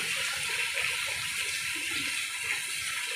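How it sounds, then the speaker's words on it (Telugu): Heavy rain pours down over Hanamkonda in Warangal district, a dense, steady hiss of falling water that holds evenly loud throughout without any voices. "ఇంకా ఘోరంగా పెరిగింది వర్షం"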